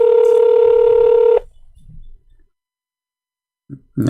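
A steady electronic phone tone holds for over a second, then cuts off, followed by quiet rumble and a brief low thump near the end.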